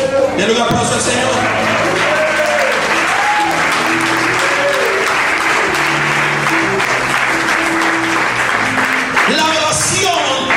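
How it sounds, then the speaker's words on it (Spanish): A church congregation gives sustained, loud applause that fills the whole clip, with voices and scattered shouts mixed into the clapping. "Denle un aplauso al Señor."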